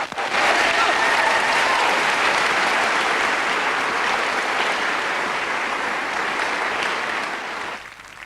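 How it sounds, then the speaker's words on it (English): Live comedy audience at the Edinburgh Fringe in 1991 bursting into sustained, dense applause and cheering that holds steady, then fades near the end. "Please make him feel welcome here. Frank Skinner, yeah, cheer it for him"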